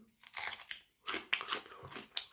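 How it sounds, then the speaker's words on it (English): Crisp crunching bites into fresh jujube fruit, several close, dry crackling chews in bursts, quiet and alone with no voices. "It's a bit sweet, but crunchy and juicy like this."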